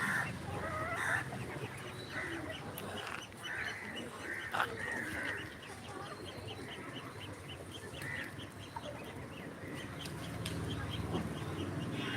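Fancy chickens on a family farm cluck in repeated short calls, fairly close, over quiet outdoor background with faint crowing-like cries.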